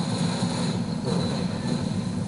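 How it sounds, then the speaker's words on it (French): A helicopter in the Call of Duty: Modern Warfare 2 video game produces a steady, droning engine and rotor hum that fills the moment at an even loudness, with no speech over it. "Ben là, c'était l'hélicoptère."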